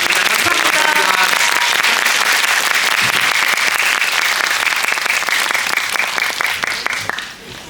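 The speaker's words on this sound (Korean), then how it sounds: "유상 감독님, 황정민 배우님께도 큰 박수 부탁드립니다" A theater audience at a film screening talk event bursts into sustained applause, many hands clapping loudly and densely before it thins out and fades at the end.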